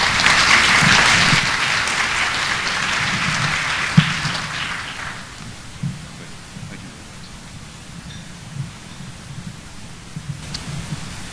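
Audience applause in a conference opening session, a broad steady clapping wash that fills the first few seconds, then thins into scattered, fading claps and quiet room noise.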